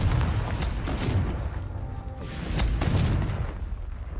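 A Confringo fire spell explodes repeatedly in Hogwarts Legacy, producing a run of loud booming bursts with crackling, rumbling tails that swell and fade across the clip.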